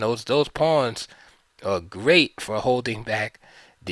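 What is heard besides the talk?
No everyday noises stand out.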